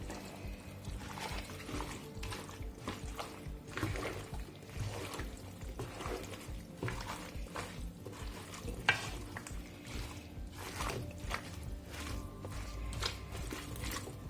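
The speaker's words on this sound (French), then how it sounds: "Et on mélange comme on peut." Curried courgettes in a big, crowded pot are stirred with soft, irregular scraping and squelching, a faint sizzle beneath the continuous mixing.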